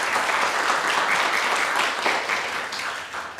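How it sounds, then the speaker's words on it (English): Audience applause for speaker Don Asher after his evening talk on graduate school, a steady, dense wash of clapping from a room of listeners that holds level and tapers slightly at the end. "So one more round of applause for Don and his talk tonight."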